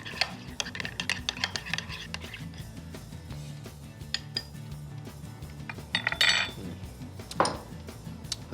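Utensil stirring vanilla extract, vanilla bean and orange zest in a bowl, giving light clinks and scrapes against the bowl with a louder rattle near the end, with no talking.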